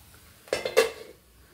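A metal lid clatters down onto a cooking pot of snake gourd, moong dal and tomato curry: a quick cluster of close, ringing clinks and a scrape, then near silence.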